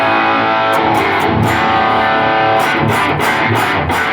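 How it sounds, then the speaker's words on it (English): A Gibson LPX Les Paul electric guitar plays loud and saturated through an older rat-style pedal distortion, gritty fuzz, sustained chords ringing continuously with rhythmic strummed accents. "I got a little distortion going on there. It's kind of a older kind of rat type pedal sound"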